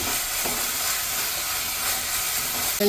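Ginger garlic paste and tomato sautéing in a pan for a prawn roast, giving a steady, even sizzle with soft stirring scrapes throughout, and a brief clatter at the very end.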